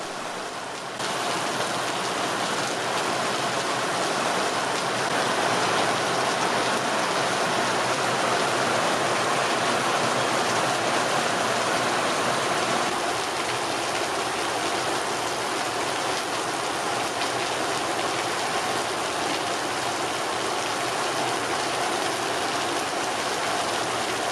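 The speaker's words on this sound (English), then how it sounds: "It was just a lot of rain." Steady, heavy rain pours continuously, a dense hiss of water with no breaks and no voices.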